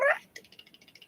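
A pet cat gives a short meow, then a quick run of soft, rapid chittering clicks, close and fairly quiet with no talk.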